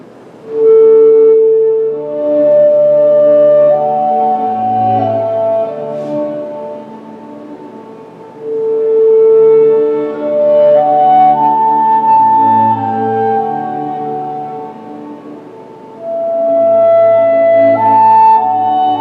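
A recording of Mozart music featuring clarinet plays clear, smooth melodic phrases over soft low accompaniment, rising and falling in separate sustained lines with brief pauses between passages.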